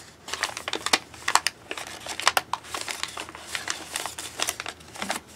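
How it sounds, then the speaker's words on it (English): Origami paper crinkles and crackles in quick, close bursts as crane wings are folded down and creased, with no talking. "Now I'm going to fold the wings down and put a crease in them."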